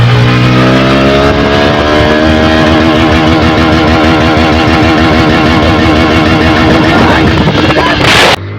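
A brand-new Hero Xtreme 125R motorcycle revs hard at full throttle, its engine note climbing and bouncing repeatedly off the rev limiter, loud and close, then cutting off abruptly near the end.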